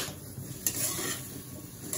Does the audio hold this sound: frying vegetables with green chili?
yes